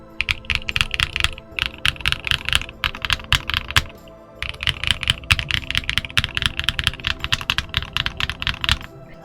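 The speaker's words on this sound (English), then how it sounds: "This one definitely sounds and feels like a much more expensive keyboard." Rapid, clicky typing rattles on an Omnitype Bauer Lite plastic mechanical keyboard in dense, continuous bursts with one brief pause partway through.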